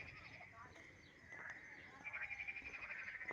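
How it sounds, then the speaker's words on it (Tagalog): Frog croaking outdoors in a garden of fruit trees and vegetable plots, a faint pulsing call that grows steadier and more rhythmic in the second half, with distant talking mixed in. "May palaka dyan."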